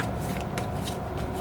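Tarot cards being shuffled by hand, a quick close run of soft papery riffles and flicks, continuous and fairly quiet, with no speech.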